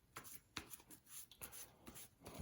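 A pile of board game event cards is shuffled by hand in a quiet series of soft papery riffles and rubs, close and faint, with a few brisk swipes and no talk.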